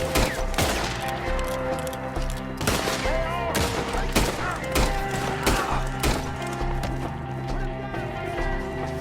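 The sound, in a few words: gunfire in a shootout, video game Red Dead Redemption 2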